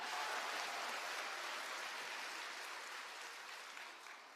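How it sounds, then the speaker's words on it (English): Audience applause, a soft, distant wash of many hands clapping together, steady at first and then slowly thinning out toward the end. "give a big enthusiastic round of applause"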